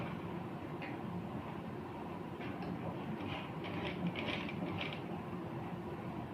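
Sewing machine stitching the folded waistband strip of a salwar, a steady mechanical whirring chatter that runs continuously and evenly throughout, with no talking over it.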